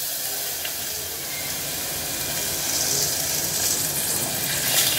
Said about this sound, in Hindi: अब इसमें हींग डल रही है, हींग डालने के बाद इसमें थोड़ा सा पानी डाला जा रहा है।